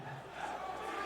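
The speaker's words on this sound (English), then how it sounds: "there's actually a lot of fans cheering." A large esports arena crowd at the League of Legends Worlds 2022 group stage cheers and chants in a steady, dense roar, broad and fairly distant, with no clear talk over it.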